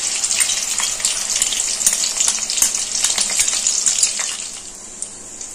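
Ginger paste with green chillies hitting hot mustard oil and ghee in a pan, a steady close hiss and crackle of frying that tapers off near the end, with no talk.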